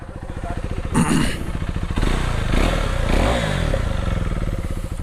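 A motorcycle with its dB killer removed throbs loudly up close with a harsh, popping exhaust, rising in bursts of revving before settling back into a rough idle.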